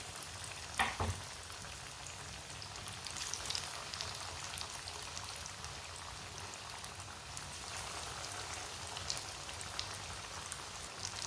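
Aloo matar tikki patties fry in hot oil with a steady, moderate sizzle and light crackle that holds evenly throughout, with one sharper pop near the start.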